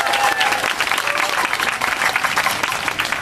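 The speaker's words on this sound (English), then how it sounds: "Give yourselves a hand." Applause and cheering from a large crowd of union members at an outdoor labour solidarity rally at UBC, sustained and dense for the whole stretch, loud and close with a few voices calling out.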